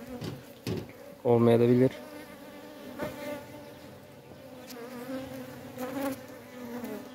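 Honeybees buzz around hives in an apiary during a beekeeping inspection. A steady hum runs throughout, with one loud, close burst of buzzing near the start and a few brief spoken words.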